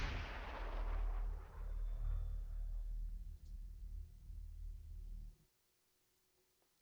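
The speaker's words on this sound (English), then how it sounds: "FTL drive engaged." A heavy, booming rumble as a starship's FTL drive engages in the space game Stellar Tactics, loud and sustained for about five seconds before cutting off abruptly into silence.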